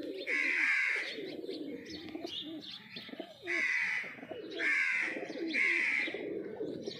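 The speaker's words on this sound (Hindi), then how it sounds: "भाई आप ये कबूतर देखें।" Low flyer pigeons coo repeatedly in soft, throaty bursts close by, with several calls spaced a second or so apart against a quiet background.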